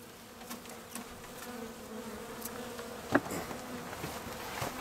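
Honey bees from a package being installed into a new hive, a steady close buzzing swarm humming throughout with one sharp click partway through and no talking.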